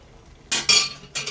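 Metal spoon scraping and clinking against a pot while mutton is stirred and sautéed with a little stock, a few short clattering bursts close up with quiet pauses between.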